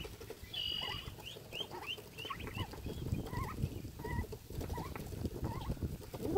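Busy duck yard with many overlapping birds, including ducklings, calling at once, gobbling and clucking chatter steady and fairly close throughout.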